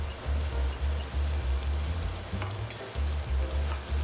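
Mushrooms and a savory filling sauce sizzle in a hot pan while being tossed for lo mai gai sticky rice filling: a continuous crackling hiss over a low, pulsing rumble, with no voices.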